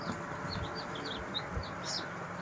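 A crowd of two- to three-day-old chicks, gathered for sale, keeps up a dense, steady chorus of high, thin peeps close at hand.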